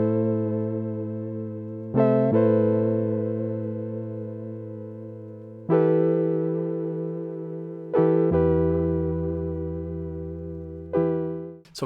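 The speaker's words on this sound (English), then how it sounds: "The first sound right here is the Whirly Soul from dreamsynth, and it sounds like this." Whirly Soul patch from the Cherry Audio Dreamsynth synthesizer played dry with no effects, sustained rich harmonic chords that change every few seconds, each attack swelling then slowly fading, played alone.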